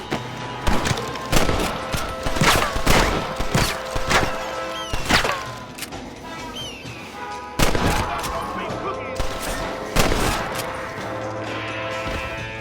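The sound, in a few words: gunfire in video game Red Dead Redemption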